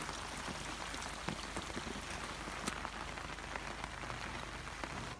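Steady, heavy rain pattering on a surface on Mount Kinabalu, Malaysia, a continuous dense hiss with occasional louder drops and no voices.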